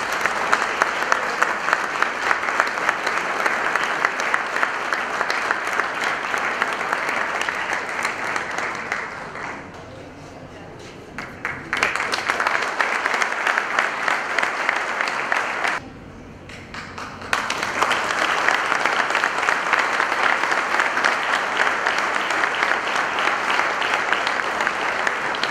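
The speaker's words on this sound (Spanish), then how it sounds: "Fuerte el aplauso para ella, por favor." Sustained applause from a large audience at an awards ceremony in Peru, loud and dense, dipping briefly twice before swelling back to full clapping.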